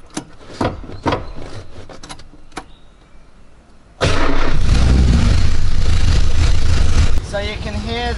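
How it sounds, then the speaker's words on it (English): Datsun 240Z engine with a manual swap starting and running after several quick attempts: loud, steady mechanical roar and rattle, with the exhaust rattling on its mount, close by. "you can hear the exhaust just rattling on that mount"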